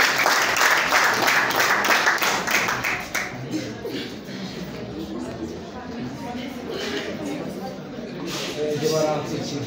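Wedding guests at GS Gisozi 1 in Gasabo, Kigali break into loud, dense applause that fades after a few seconds into scattered claps and crowd murmur, with voices talking over it.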